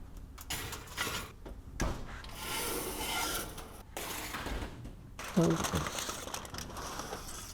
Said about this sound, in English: Cover it tightly with foil.